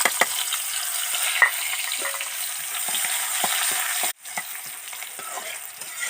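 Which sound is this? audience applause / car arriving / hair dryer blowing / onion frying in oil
onion frying in oil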